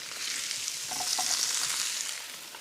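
Onions and carrots frying together over high heat in a stew pan, a dense, continuous close sizzle with a few faint clinks of stirring, loud and unbroken.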